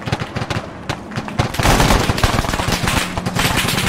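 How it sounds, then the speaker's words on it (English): A .50 cal turret machine gun in Arma 3 fires loud, rapid bursts, the sharp reports merging into a sustained roar of gunfire partway through. "I wish we had a 50 cal turret like this one."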